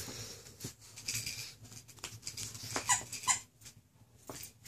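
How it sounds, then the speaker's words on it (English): A dog playing with her squeaky toy indoors at a house, giving a few short, bright squeaks around the middle of the stretch over light patter and background noise. "The dog is playing with her toy."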